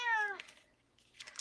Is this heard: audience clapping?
no